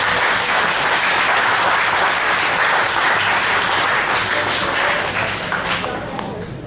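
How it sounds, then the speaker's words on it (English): Loud, sustained applause from the audience at an art competition reception, thick continuous clapping that holds steady before easing slightly near the end. "give a big round of applause for all of our competitors"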